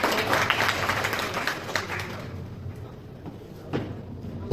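Loud, dense applause from the crowd at a pigeon racing prize-giving ceremony, a thick wash of clapping for about two seconds that then thins out to scattered claps and a thud.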